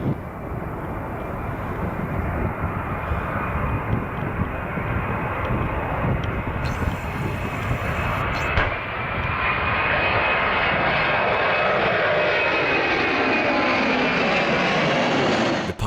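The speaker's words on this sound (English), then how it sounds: "This DHL Airbus A300 was taking off from Amsterdam" A DHL Airbus A300 jet airliner roars loudly and continuously as it takes off from Amsterdam, the engine noise powerful and sustained, rising into a strong drone that carries throughout.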